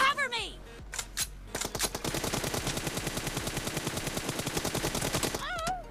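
Rapid automatic gunfire rings out in a 1v1 team deathmatch video game. A few separate shots are followed by a long, dense, evenly spaced burst of close, loud rounds, with a brief voice at the start and the end.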